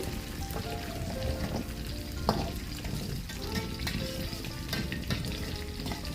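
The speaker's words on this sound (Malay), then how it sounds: "goreng hingga garing dan keperangan sedikit" Oil sizzles and crackles steadily, with occasional louder pops and spatters, as banana fritters deep fry in a pan until crisp.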